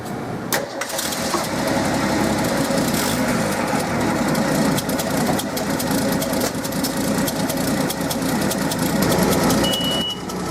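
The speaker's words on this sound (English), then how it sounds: "After we start the engine, it analyzes it at idle." A car engine cranks and catches for an alternator test with a Snap-on D-TAC Plus scan tool, then holds a steady, close, humming idle with a faint electronic beep near the end.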